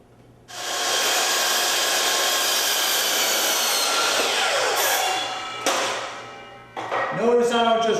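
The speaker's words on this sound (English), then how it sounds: "Notice I don't just run that saw right through it because you'll mess the wood up and you really get frays." Power saw cutting wooden crown molding for kitchen cabinets, starting abruptly and holding a loud, steady high whine with grinding through the wood for about five seconds, then winding down with a few clicks and a short burst of rattling.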